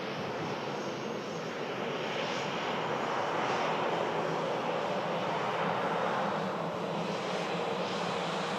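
Airliner jet engines roar at Manchester Airport, with a broad, steady rushing sound that swells gently and holds for several seconds at moderate distance.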